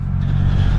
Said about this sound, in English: it's got this kind of single cylinder thumper pop to it